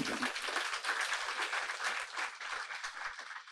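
A church congregation applauds during a French-language sermon, a dense, steady wash of many hands clapping at once that carries evenly for a few seconds with no voices over it.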